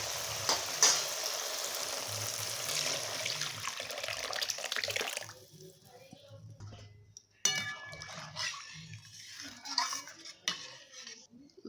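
Spice masala fries in oil before lentils go in: a loud, dense sizzle fills the first few seconds, then fades to quieter crackling punctuated by clinks of utensils and pans.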